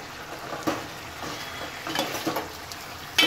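Ghol fish bones sautéing in oil for a kalvan curry: a steady, close sizzle with several scraping stir strokes spread through, ending in a brighter clatter.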